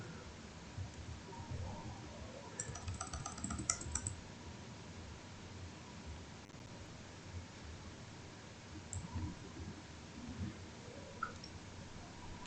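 Typing on a computer keyboard while entering Flutter dependencies into a pubspec.yml file: soft, steady key clicks in short bursts over a low background hiss, with a few brighter clustered taps.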